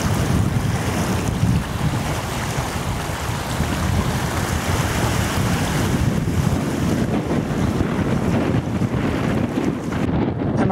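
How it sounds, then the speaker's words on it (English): Strong wind roars continuously against the microphone, a heavy, buffeting rush with no voices, sustained at a constant loud level throughout. "Now very windy."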